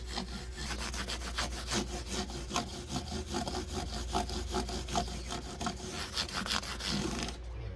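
Hand sanding of the frets on a 2018 Gibson ES-275 with a sanding sponge and fine paper, loud, close, rhythmic back-and-forth scrubbing strokes with no speech.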